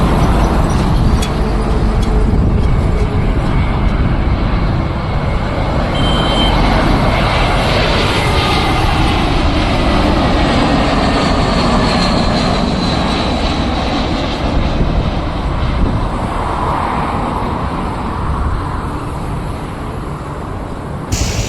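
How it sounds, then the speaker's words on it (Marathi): A fixed-wing airliner takes off near the Navi Mumbai airport, its engines a loud, steady roar that holds for the full stretch and swells and fades slightly, with faint road traffic underneath. "तो बघा एक उडतोय बघा विमान."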